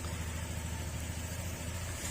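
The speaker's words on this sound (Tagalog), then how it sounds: "tahimik yung makina, maganda yung andar" A Yamaha Sporty motorcycle's engine idling quietly and evenly, a low steady putter with no voices.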